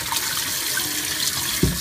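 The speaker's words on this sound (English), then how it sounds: "I'm going to pour cold water on them." Cold water poured over cooked bones in a kitchen makes a steady, close splashing rush that holds level throughout, ending with a small knock.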